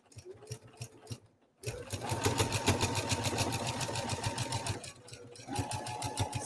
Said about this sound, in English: And it's stitching over.